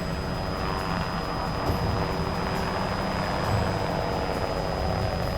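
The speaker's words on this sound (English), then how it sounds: "pilot Mike Watson maneuvers the chopper to cut it off." Helicopter piloted low over rough Kenyan terrain during a rhino capture, maneuvering to cut off the running animal; a steady, loud rotor and engine drone fills the scene continuously with no talking.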